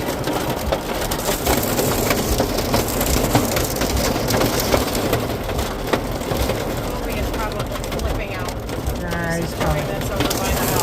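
Dense, continuous clatter of hail pelting a truck, loud and close, with a faint voice briefly audible under the pounding.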